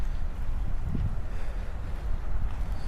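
Wind blows outdoors in Sydney, buffeting the microphone with a low, gusty rumble that rises and falls continuously for a few seconds, with no voices.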